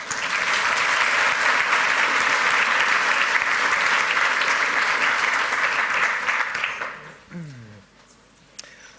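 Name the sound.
audience applause after lightning talk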